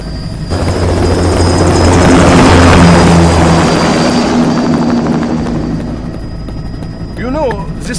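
An aircraft taking off in the video game Metal Gear Rising, a loud roaring engine swell that builds and slowly fades with a steady whine on top, and a brief voice near the end.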